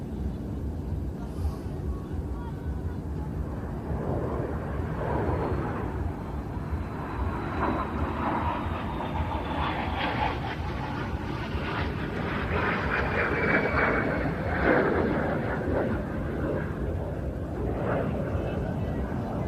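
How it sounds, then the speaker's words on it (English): A de Havilland Vampire FB-52 jet with its de Havilland Goblin engine makes a final flypast at an air show, a broad, steady jet roar that builds and swells toward the middle, with a commentator's voice over it. "Let's just listen to the sound of that beautiful de Havilland Goblin engine."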